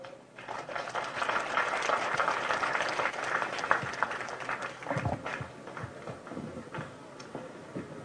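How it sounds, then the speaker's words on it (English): An audience at a live national agricultural education show applauding after a speech, a sustained wash of clapping that rises, holds for several seconds, then tapers off into scattered claps. "I think you deserve a better applause from the audience"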